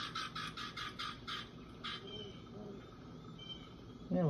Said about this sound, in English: they can hear the little chirpies in the background